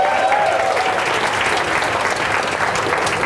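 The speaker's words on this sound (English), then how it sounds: "this deserves not only a round of applause but a massive cheer as well to all the competitors and accompanying people" Loud, sustained applause from a crowd at an indoor skydiving competition, honouring the competitors; dense even clapping close up, unbroken for the whole stretch, with no voices standing out.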